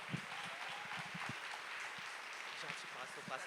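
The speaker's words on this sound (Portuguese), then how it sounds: "Uma salva de palmas para a nossa convidada." Audience applause for a guest speaker at an education seminar in Uberlândia, a dense, steady wash of clapping across the hall with scattered sharper claps and some voices mixed in.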